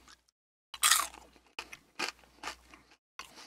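Cracker Jack caramel corn with peanuts chewed close to the mic, a series of about five loud, crisp crunchy bites separated by short silences.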